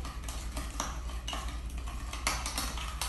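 A spoon stirs a Korean seasoning sauce of sugar, sesame oil, scallion, garlic and pepper in a bowl, its light scraping broken by irregular clinks against the side, close and fairly quiet.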